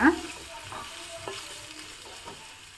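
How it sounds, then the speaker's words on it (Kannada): Soft stirring and a gentle sizzle of masala frying in oil in a covered pan, with occasional scrapes of a spoon; fairly quiet and steady, no talking. "ಮುಚ್ಚಿಬಿಟ್ಟು ಫ್ರೈ ಮಾಡ್ಕೋತಾ ಇದ್ದೀನಿ"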